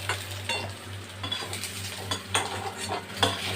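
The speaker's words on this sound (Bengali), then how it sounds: "এভাবে আলু বেগুনগুলোকে ভেজে আমি তুলে রাখলাম" Potatoes and eggplant fry in oil in a kadai, with a soft continuous sizzle under repeated metallic scrapes and taps of a spatula, and a steady low hum beneath.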